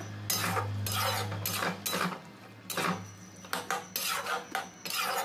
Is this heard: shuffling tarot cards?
no